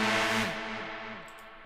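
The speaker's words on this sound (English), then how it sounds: "Or so I have this Hoover synth sound." A Hoover synth patch, the classic 90s rave sound, built in Ableton for modern techno, gives a thick, buzzing sustained chord that slides downward and then fades out with an echoing tail.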